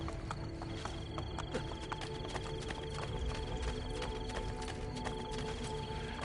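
A horse's hooves clop with an occasional whinny in the Assassin's Creed Brotherhood game, steady and fairly close over a constant background bed, with no talk.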